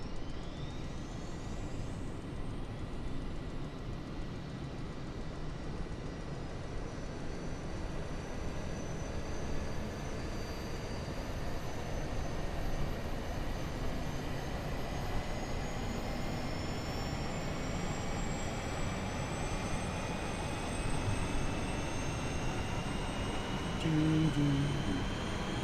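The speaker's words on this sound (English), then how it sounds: "Flap will open, and then we will fire up the APU." Airbus A330-900 auxiliary power unit spooling up in Microsoft Flight Simulator, a steady broadband roar with a slowly rising whine that climbs over several seconds, heard alone.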